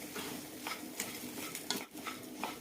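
Half-soaked green gram and rice fry in a pan as the water cooks off. Quiet stirring scrapes and light spoon-on-pan knocks repeat over a soft, low sizzle.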